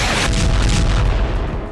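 Loud, sustained explosive roar from the blast on the Nord Stream 2 undersea gas pipeline, a dense low rumble with rolling booms that fills the whole moment without letup.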